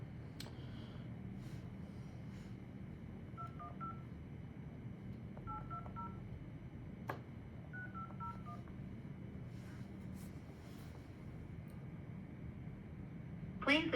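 Touch-tone telephone keypad dialing a number, several short clusters of beeps spread across a quiet room with faint background hum and small bumps, no talking.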